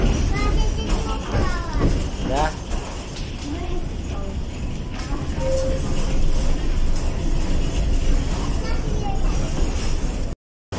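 Inside a Lastochka electric train, a steady rumbling ride noise runs under nearby talk and a voice.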